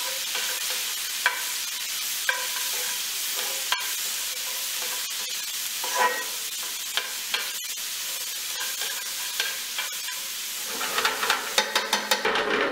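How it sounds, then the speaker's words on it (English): Bacon and onion frying in a pan for a pork tenderloin meal give a steady close sizzle with crackling pops and occasional stirring scrapes, growing busier near the end. "the bacon is fried off quite nicely. We want that to get a little bit crispy, and we'll add in some onion."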